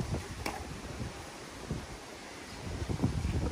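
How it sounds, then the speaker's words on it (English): Wind gusting around a house under construction, caught as low, uneven rumbling buffets against the microphone with brief stronger gusts, fairly quiet and with no talking. "Ooh, it's windy."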